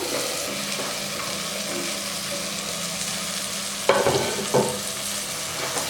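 Vegetables, including potato and raw plantain, sizzle steadily in a hot pan while being sautéed for sambar, with a couple of louder scraping stirs near the end.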